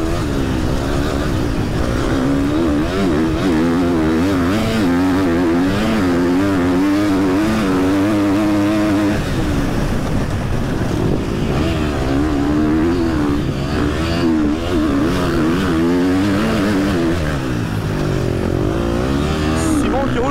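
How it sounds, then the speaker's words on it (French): A Wolf Moto motorcycle rides around a track, its engine a loud, continuous drone whose pitch rises and falls steadily for the whole stretch. "moi j'ai une moto Wolf Moto"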